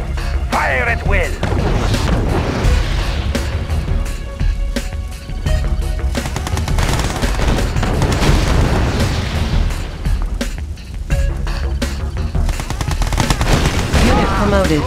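Dense game battle noise from Red Alert 2: Yuri's Revenge, with rapid machine-gun fire and booming explosions running loud and continuous throughout, mixed with music and brief unit voice lines.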